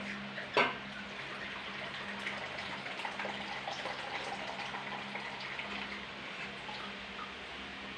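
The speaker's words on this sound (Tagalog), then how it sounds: "Lalagay na ako ng tubig." Water poured from a dipper into a cooking pot for a vegetable dish with squash, a steady low splashing and trickle running the whole time, faint and fairly close, with a brief knock near the start.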